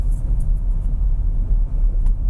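Steady low engine and road rumble from inside a Suzuki Grand Vitara Hybrid driving in eco mode on a highway at about 90 km/h. The drone is constant and close, with no voices.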